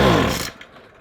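A McCulloch petrol strimmer engine splutters loudly for half a second as it struggles to fire, then drops to a faint, rough idle that barely keeps running.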